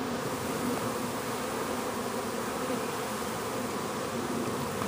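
A secondary honey bee swarm in a low tree in mid-June, a steady, dense buzzing drone of many bees filling the air without pause.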